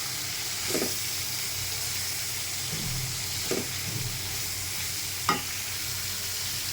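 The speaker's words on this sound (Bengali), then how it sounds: "সয়াবিনটাকে ভেজে নিতে হবে" Soybean chunks and potatoes frying in a pan give off a steady close sizzle, broken by a few scraping stirs and spatula knocks spaced out over the stretch.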